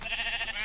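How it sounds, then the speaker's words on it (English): A single sheep bleat in Minecraft, heard alone and close: a short, wavering, nasal tremolo lasting under a second at steady loudness. "Oh, there's a sheep."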